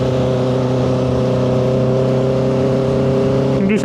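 A 2025 Honda CBR650R sports touring motorcycle is being ridden, its engine giving a loud, steady droning hum that holds an even pitch throughout, with a brief change in tone right at the end.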